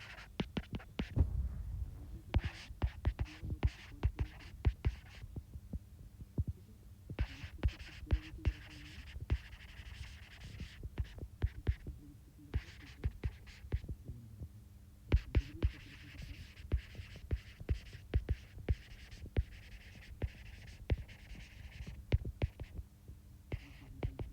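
Pen scratching across paper while writing out given data for a soil engineering problem, close and continuous with short strokes and taps throughout, no talking.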